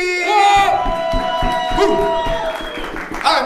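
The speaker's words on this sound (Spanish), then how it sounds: "vamos a darle un fuerte aplauso a un invitado especial secreto, Víctor Villamil" Live show audience breaking into applause and cheering for a surprise guest, clapping and crowd noise under loud sustained whoops and shouted voices, close and energetic.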